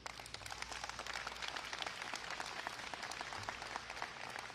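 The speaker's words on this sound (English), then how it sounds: "So round of applause for this beautiful," A crowd at an event with Illinois Governor JB Pritzker applauds, giving a steady wash of dense clapping heard from a moderate distance. The applause holds at an even, fairly quiet level throughout with no speech over it.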